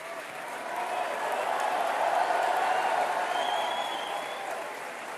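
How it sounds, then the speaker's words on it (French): Large crowd applauding at an election-night rally after the first round of a French presidential election, a steady dense wash of clapping swelling slightly mid-clip and holding, with no speech over it. "Merci à vous de les avoir tous et toutes applaudis à l'instant"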